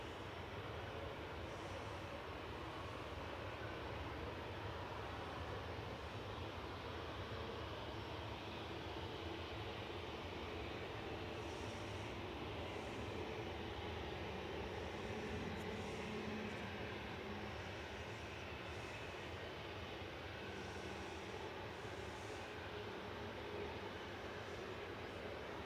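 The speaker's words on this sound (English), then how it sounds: "Here's Kuwait Airways from Kuwait City." A Kuwait Airways airliner from Kuwait City at Manchester Airport gives a faint, continuous jet engine roar that holds steady from a distance without a break.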